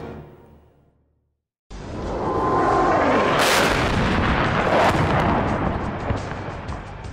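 Missile attack explosions at Camp Liberty: a brief fading rumble, a moment of silence, then a sudden loud, sustained roaring blast that swells and slowly tails off.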